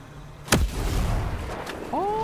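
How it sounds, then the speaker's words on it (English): A grenade launcher fires in a video game: one sharp, loud boom followed by a rumbling tail, then a few rising electronic tones near the end. "I want to use my grenade launcher"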